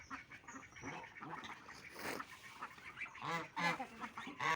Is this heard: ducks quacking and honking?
yes